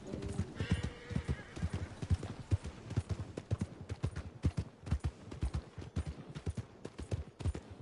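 A horse's hooves clip-clop in the video game Red Dead Redemption 2, a steady run of close, crisp hoofbeats with a brief whinny early on.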